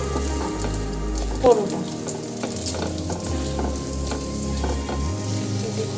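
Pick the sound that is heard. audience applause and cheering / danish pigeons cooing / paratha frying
paratha frying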